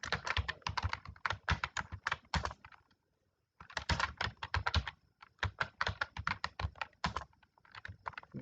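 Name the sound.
typing an address on a computer keyboard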